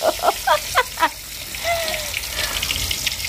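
Spice-coated pieces of food frying in a pan on a clay stove, giving a soft sizzle after a few short clinks and scrapes, quiet and close.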